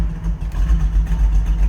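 A 1937 Ford Coupe street rod engine runs with a deep, rumbling low-end throb and uneven pulsing revs, loud and close for a short burst with no talk.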